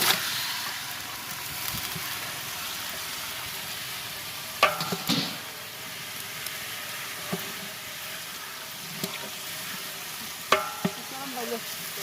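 Beef pieces frying and being stirred in a pan for biryani, a soft steady sizzle with a few sharp utensil scrapes and clinks, moderately quiet with no talk.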